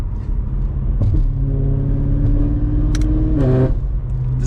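A straight-piped BMW F90 M5 exhaust rumbles deeply at close range, revving and climbing in pitch with a brief shift, loud and steady throughout.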